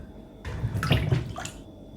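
Soaked cassava pieces rinsed in a bowl of water, giving a brief burst of splashing and sloshing that swells and fades over about a second, close and fairly loud, with no talking.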